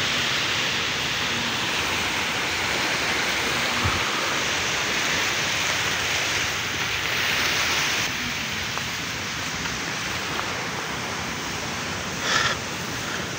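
Steady broadband wash of waves at a small beach surrounded by rocks at Pantai Alam Indah, a continuous even roar close by with no clear breaks.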